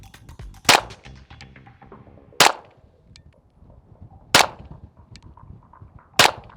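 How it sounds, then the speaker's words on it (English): Four loud unsuppressed pistol shots from a Noveske Glock-style handgun, fired at 12 yards at a paper target, each a sharp crack with a ringing tail, spaced roughly two seconds apart. "First shots, unsuppressed."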